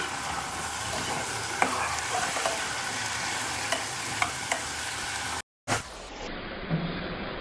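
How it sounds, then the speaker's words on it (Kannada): Cluster beans stirred and fried in a pan, a dense, close sizzle with light spatula clicks, a brief cut near the end before the frying resumes. "ಇವಾಗ ಗೋರಿಕಾಯಿ ಹಾಕೊಳ್ಳೋಣ ಥರ ಎಲ್ಲ ಮಿಕ್ಸ್ ಮಾಡೋಣ"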